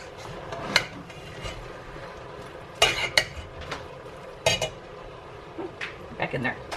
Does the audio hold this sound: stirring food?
yes